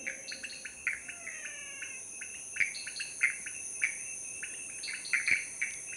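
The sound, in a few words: frogs and other critters calling in habitat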